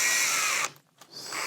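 Power drill driving a screw while a sliding door with insect screen is mounted, a short high whir that cuts out briefly and then resumes, close and alone.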